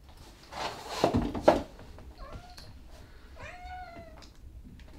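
A cat being held gives a few drawn-out, rising meows and a wailing cry, with rustling and handling noise in between, fairly close.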